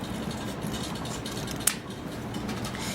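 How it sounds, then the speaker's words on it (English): Scissors cutting a strip of material while making waterproof matches, a few faint sharp snips over quiet room noise, with no talk. "Now I'm going to go ahead and cut this strip out as well."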